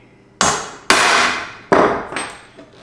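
A hammer strikes a metal rod end to peen it on, four sharp ringing blows with decaying metallic clang, the last one lighter, close and loud with no talk.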